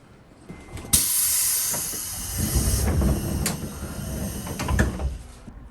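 The last Ryomo Line train to Kiryu pulls out of Oyama Station late at night, starting with a loud burst of air hiss, then a steady low rumble, with clanks and thumps as it gets moving.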